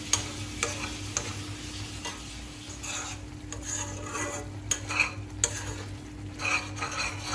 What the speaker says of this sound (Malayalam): അപ്പോൾ ഇതാ ഇവിടെ ഇത് നന്നായിട്ട് തിളയ്ക്കുന്നുണ്ട് കേട്ടോ